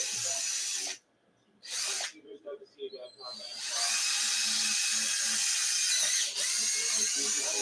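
A power drill whirs in loud bursts while working on an RC car, starting and stopping in short stutters before settling into one long sustained run with a brief dip near the end.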